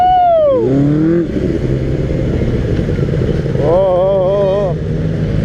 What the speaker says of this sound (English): Oh, super bike, super bike. Come as fast as possible.